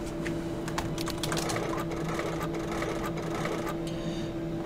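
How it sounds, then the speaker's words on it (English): Keyboard typing in the Nancy Drew game Danger by Design: a run of quick, light key clicks in irregular bursts over a steady low background hum, with no talking. "Looks like I should type a message using my own keyboard."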